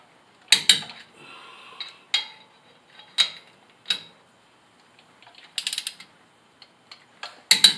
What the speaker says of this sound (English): I've got my torque wrench set to 83 foot-pounds, just like you would for any of the lug nuts.